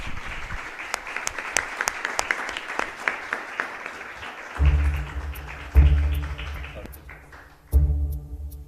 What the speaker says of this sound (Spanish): gracias a Tailo, un aplauso.